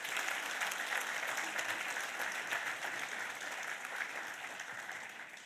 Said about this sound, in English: Let's give them a thunderous round of applause.